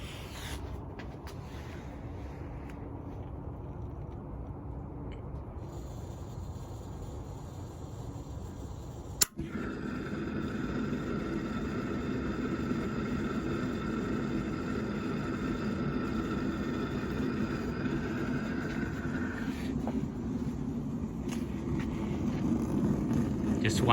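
An outdoor gas pizza oven burner ignites with a sharp click, then roars steadily in cold -1°C weather, a continuous broadband rush that swells slightly louder over time, with a faint hum beneath and light wind noise.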